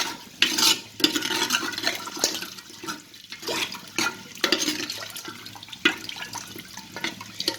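Country chicken kulambu stirred in a pot after water has been added, with repeated sloshing, scraping strokes in an uneven rhythm, close and moderately loud, no talking.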